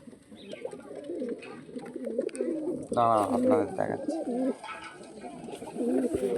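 A captured pigeon coos in repeated low, throaty rolls close by, with someone talking over and between the calls.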